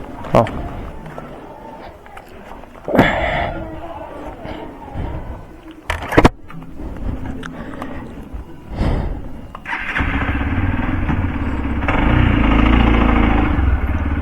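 A motorcycle that has finished its second service but rattles from the gear shifter, started with the key, its engine catching and settling into a loud, close idle near the end, with people talking over it.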